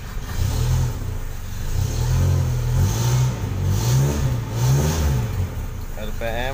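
Suzuki Jimny Katana 4WD engine running and revving up and down in steady swells, close and loud, with a person talking over it.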